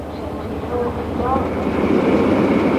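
Loud, steady rumble of a train with 24 litres of turbocharged diesel at 125 miles an hour, with a constant roaring drone and faint tonal whines rising above it.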